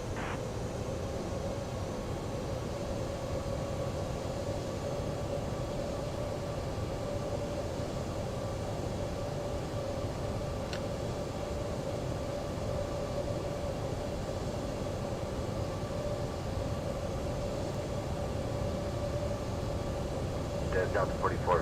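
A Toliss A321neo airliner taxiing in the X-Plane 12 flight simulator gives a steady, unbroken jet engine drone that holds for the whole stretch, with a faint rise in noise right at the end.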